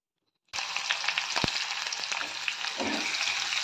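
After a moment of silence, onions hit hot oil spiced with cinnamon, cardamom and bay leaf for a banana flower curry, and a loud, steady close sizzle takes over and continues without voices.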